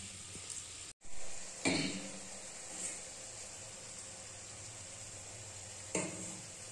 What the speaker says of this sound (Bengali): আমি কিন্তু লুচি ভাজা শুরু করে দিয়েছি।